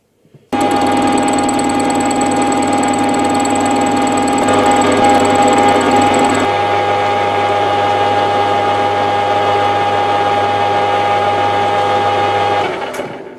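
Lathe-type machine taking a cut on a tripod quick-change camera adapter plate, a loud, steady mechanical whine with a constant hum that shifts tone partway through, then stops.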